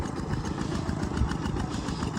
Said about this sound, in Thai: วันนี้ก็มาเบิ่ง บรรยากาศการไถนาเนาะ ไถนาซึ่งมีรถไถ2 คัน